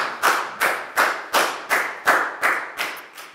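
Nine sharp, evenly spaced claps ring out close and loud in a classroom, a steady rhythmic round of applause for a student with no talking over it.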